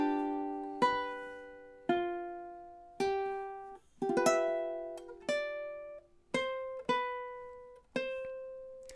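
Solo ukulele playing measures 33 and 34 of a song, about ten bright plucked notes and chords in an even rhythm, each ringing out and fading, close and clean.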